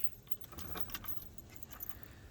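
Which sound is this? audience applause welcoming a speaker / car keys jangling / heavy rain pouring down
car keys jangling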